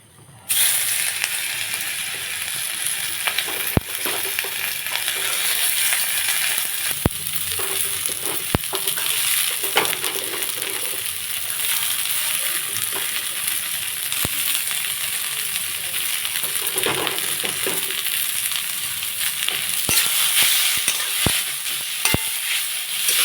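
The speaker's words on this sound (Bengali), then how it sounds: "এখন কড়াই অল্প করে তেল দেব, দিয়ে গ্রেট করা আলু, বরবটি, ক্যাপসিকাম আর পেঁয়াজটা ভেজে নেব" Grated potato, long beans, capsicum and onion fry in a little oil in a wok, making a continuous close sizzle broken by repeated sharp scrapes and clicks of stirring, with occasional voices underneath.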